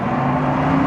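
A car speeds down an unclosed New York City street in the 1971 French Connection chase, a steady loud engine roar with a sustained droning tone and no other sounds.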